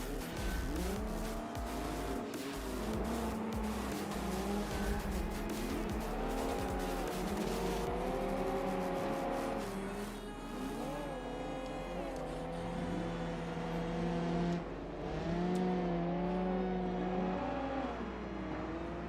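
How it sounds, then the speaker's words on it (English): Race car engines in the BeamNG video game whine and rev continuously on a Johnson Valley dust bowl track, shifting pitch as the cars accelerate and brake, with occasional tire squeals; a synthetic, game-like engine drone fills the clip. "It's hard to hear my car over the other cars being this far away, too."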